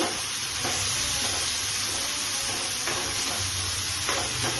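Tomato paste sizzles and fries steadily in a pan for an eyl fish curry, with a continuous bright hiss and occasional stirring scrapes, close and fairly loud with no talk.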